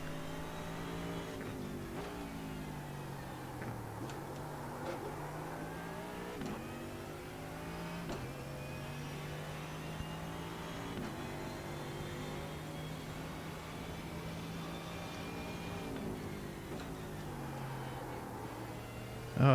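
Engine of a race car in the iRacing simulator rising and falling through gear changes in a steady, continuous drone with repeated revving sweeps, close and moderately loud, with no talking.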